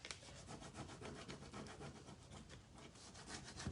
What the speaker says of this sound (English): I'm going to burnish this bottom right here. Really well.